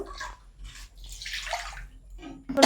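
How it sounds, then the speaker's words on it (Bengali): Water splashes and swishes in a metal wok (kadai) as it is rinsed clean in a kitchen, coming in short irregular bursts with brief pauses and a sharper clank at the end. "এই কড়াটাকে আমরা একটু জল দিয়ে পরিষ্কার করে নেব"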